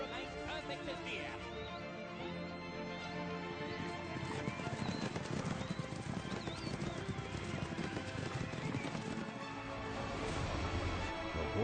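Racehorses' hooves clip-clopping at a racetrack, a dense continuous drumming of many hooves over a busy, crowd-filled background, steady and loud throughout with faint talk mixed in.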